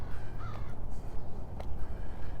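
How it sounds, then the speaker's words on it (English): A crow caws a couple of times at a distance beside a frosty lake, short faint calls rising above low steady wind and ambient rumble outdoors. "And a crow over there."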